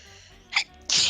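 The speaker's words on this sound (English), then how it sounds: "Wow, that was a sneeze and a half." A single human sneeze, a quick inhaled build-up then a sharp, loud explosive burst, close to the microphone in a quiet room.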